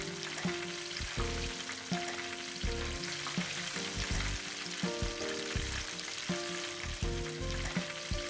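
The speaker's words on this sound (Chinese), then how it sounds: "油温150度才下锅。" Breaded taro rice cake coated in egg and breadcrumbs deep frying in oil at 150 degrees, a steady bubbling sizzle with bursts of crackle and intermittent clinks of utensils turning the pieces.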